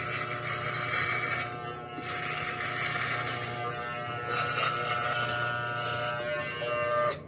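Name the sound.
electric shaver shaving off a beard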